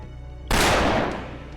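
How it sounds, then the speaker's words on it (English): A single loud pistol gunshot in the video game Fate/Grand Order, a sudden sharp crack that rings out with a decaying tail over a low background hum. "We heard a gunshot."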